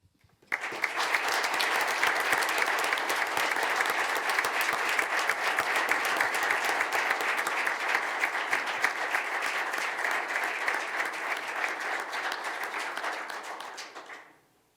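Audience at a township trustees meeting applauding, a loud, sustained round of many hands clapping that starts abruptly, holds steady for over ten seconds, then tapers off near the end.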